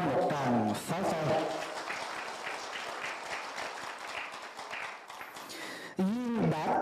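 An audience at a memorial ceremony for a Buddhist elder at a California monastery breaks into sustained applause lasting several seconds, with people talking just before and after.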